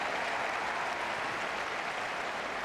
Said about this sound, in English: And an ovation from the supporters, a good crowd in tonight.